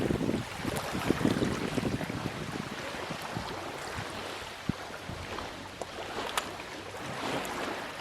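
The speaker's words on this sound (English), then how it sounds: "Another one of those days where it's gusty, you know, all day long." Gusty wind blows steadily outdoors in the woods, a broad continuous rushing roar that swells and eases in gusts, with a few faint knocks and rustles mixed in.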